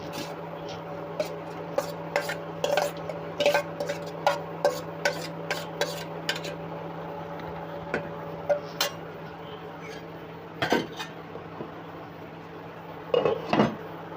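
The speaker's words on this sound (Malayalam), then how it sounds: "നമുക്കൊരു പാൻ വെച്ച് അതിലേക്ക് തേങ്ങ വറുത്തെടുക്കാം" Grated coconut being roasted in a pan, with a spoon scraping and clinking against the metal in scattered irregular strokes over a steady low hum; close and moderately loud, no talking.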